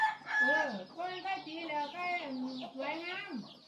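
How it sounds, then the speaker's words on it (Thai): Ornamental chickens kept at a rural Thai village home, with a rooster crowing in several drawn-out, tonal calls that rise and fall, loud and close. "โอ้ไก่สวยงามแล้วมันไม่หนีบ่ยายมันบ่หนีบ่"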